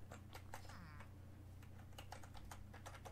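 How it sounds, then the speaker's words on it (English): Someone types a game command on a computer keyboard, giving a run of soft, quick key clicks. It is faint and close, over a low steady hum. "we'll type in the command"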